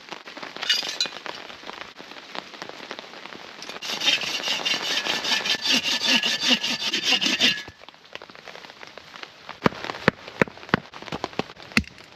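A hand saw cuts wood for a campfire outdoors, rasping strokes in a steady rhythm through the middle, followed by sharper knocks and clinks as pieces are handled and split.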